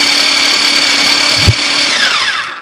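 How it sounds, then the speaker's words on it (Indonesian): A blender grinds spice paste for cooking, a loud steady motor whine running throughout with one brief thump midway before the pitch drops and the sound winds down at the end. "Ini sudah selesai kita giling."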